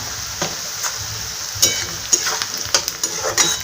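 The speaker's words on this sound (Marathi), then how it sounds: "तर आपण इकडे लाल होऊ देऊ थोडासा कांदा।" Onions with a pinch of asafoetida browning in a pan for vegetable pulao, with a low sizzle under several sharp metallic spoon taps and scrapes spaced through the clip.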